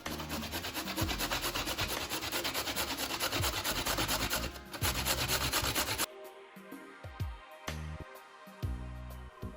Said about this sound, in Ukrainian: А моркву натираємо на терці.